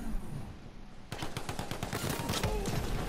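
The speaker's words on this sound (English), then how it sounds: "All these gunshots." Rapid gunfire in the shooter game Borderlands 3 begins after a brief lull and continues as a dense, rhythmic volley of close, sharp shots.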